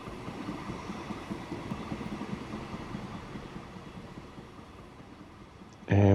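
Trains rumble steadily through a station in the video game Transport Fever 2, a continuous low mechanical drone with rail noise that ends in a sudden loud burst at the very end.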